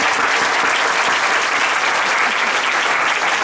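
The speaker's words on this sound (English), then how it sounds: "let me give you another round of applause" Sustained, dense applause from a graduation audience at Chauncy Hall in Chapel Hill, loud and steady throughout with no pauses and no voices.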